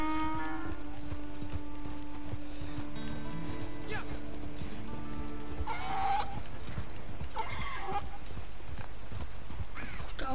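Donkey hooves clip-clop steadily through Red Dead Redemption 2 gameplay, a continuous rhythmic trot under game music and scattered background sounds.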